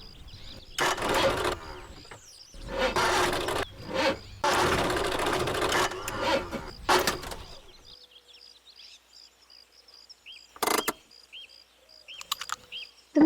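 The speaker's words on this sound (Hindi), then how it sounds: "इंजन में से कुछ आवाज आ रही है।" A car engine making an abnormal noise: loud, irregular mechanical rattling bursts over the first eight seconds, then faint chirps and clicks with brief sharp sounds near the end.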